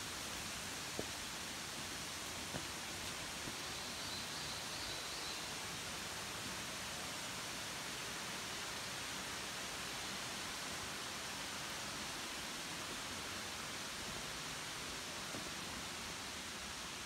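Fudo waterfall at Aoya in Tottori, Japan, gives a steady, dense broadband roar of falling water that holds unchanged for the whole stretch, with no voices.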